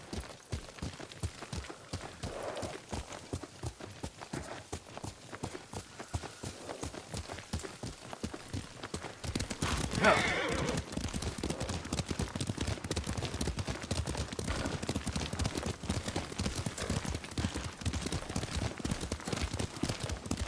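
Horse hooves clop in a quick, steady gallop while riding in the video game Ghost of Tsushima. The rhythm stays close and continuous, and a brief rustle or gust rises midway.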